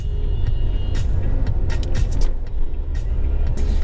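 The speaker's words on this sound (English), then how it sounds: "Too much traffic on the highway, like we said." Heavy, slow-moving traffic rumbles along National Highway 48 in India, a constant loud low roar of cars and larger vehicles with occasional brief hissing bursts, heard from close by with no talking.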